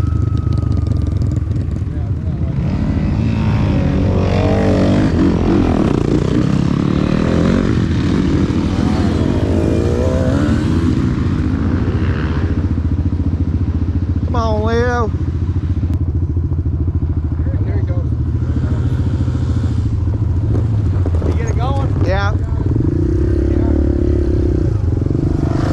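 An off-road vehicle's engine runs loudly and continuously after a restart at Windrock Offroad Park, where it keeps stalling on the trail. The rough drone carries on under people talking.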